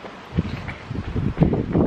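Gusty wind buffets the microphone in uneven low rumbles that rise and fall, growing stronger toward the end.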